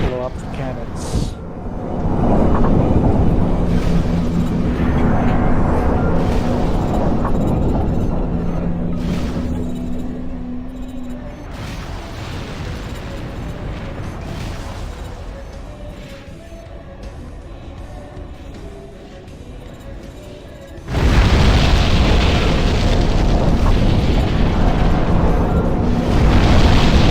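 Armored Core: For Answer gameplay with cannons being blown up: heavy booming explosions and rumbling blasts, loud and layered, with a big fresh burst near the end, while voices talk over the action.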